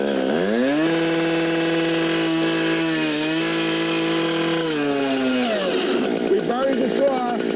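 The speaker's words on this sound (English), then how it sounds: "The curve cut is a simple cut, full RPM, and we're going to bring it down to width of the blade." A firefighter's rotary saw screams at full RPM while cutting a curved vent into a roof, a loud sustained whine that dips and rises in pitch as the blade bites, then winds down.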